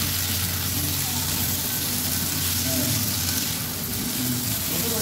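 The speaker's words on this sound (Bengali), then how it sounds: "এটার সাথে ভালো করে মশলা দিয়ে কষিয়ে দেবো তেলটাকে।" Ground spices (chilli powder, salt, cumin powder) frying in hot oil in a pan for an aubergine and potato dish, a steady close hiss and crackle of sizzling throughout with faint background voice.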